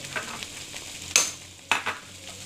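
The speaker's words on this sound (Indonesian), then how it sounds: "Tumis hingga bumbunya ini masak dan mengeluarkan aroma yang sedap." Lemongrass, bay leaves and lime leaves sauté in a pan for a tilapia dish with yellow pickle sauce, giving a soft sizzle broken by two sharp clacks of a utensil stirring against the pan.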